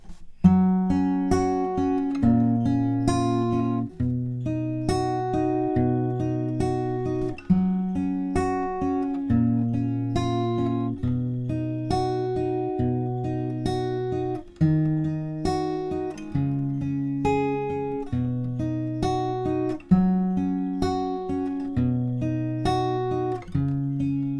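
A steady fingerpicked acoustic guitar pattern moves through the verse chords of a song, with an even rolling rhythm and clear ringing notes, played alone.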